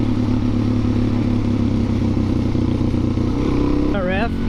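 A dual sport motorcycle engine, either a Suzuki DRZ or a Honda CRF250L Rally, thrums loudly and close in a steady buzzing drone, with a rising whine near the end; a voice speaks over it.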